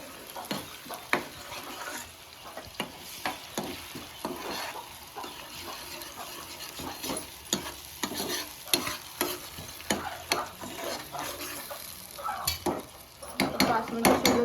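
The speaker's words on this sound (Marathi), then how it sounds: "Ginger garlic paste. त्याच्यात टाकायला घेतले टोमॅटो प्युरी." Ginger garlic paste and tomato puree frying in a pan, with steady sizzling under repeated stirring and scraping of a utensil against the pan, close and fairly loud throughout.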